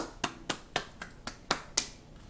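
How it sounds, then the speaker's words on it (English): During a children's chess lesson, a few sharp, crisp claps ring out in quick, even succession, about seven close, bright hits at a slightly quickening pace before stopping. "Let's give him a round of applause,"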